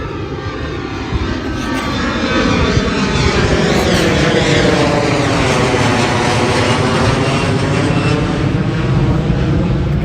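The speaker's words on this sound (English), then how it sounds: "the planes are extra noisy today" Propeller airplanes pass overhead on a rainy Sunday morning, a loud continuous droning engine roar with a wavering Doppler pitch that swells and sustains across the whole stretch, with no talking.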